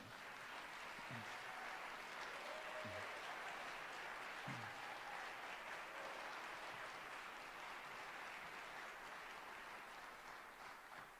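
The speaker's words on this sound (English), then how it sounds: "to hear live applause, too" Steady, distant applause from a live audience at a high school varsity band concert, a continuous even wash of clapping with occasional faint voices underneath.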